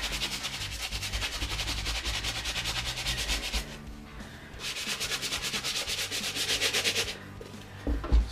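Stiff brush scrubbing trainers with cleaning solution, rapid rhythmic back-and-forth scratching in two long bouts with a short pause between, close and moderately loud.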